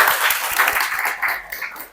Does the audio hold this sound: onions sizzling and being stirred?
no